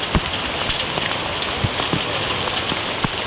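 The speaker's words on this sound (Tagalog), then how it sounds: "Lumakas na naman yung ulan." Heavy rain pouring steadily onto surfaces during flooding in Barangay San Jose, Rodriguez, Rizal, a dense, loud hiss with scattered sharper drop impacts throughout and no voices.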